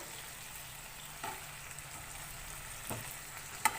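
Chicken pieces fry in a pan for a chicken tikka karahi, giving a faint, steady sizzle with a few soft clicks and pops from the oil.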